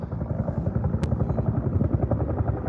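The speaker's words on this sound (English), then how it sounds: "That's why there's fucking 25 helicopters." Helicopters fly over a wildfire near Truckee. A steady, rapid rotor thump goes on throughout at moderate loudness, with a brief sharp click partway through.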